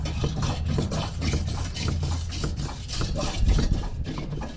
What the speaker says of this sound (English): it just sounds like the suspension's annihilated on this thing.